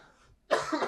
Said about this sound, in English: There's that cough.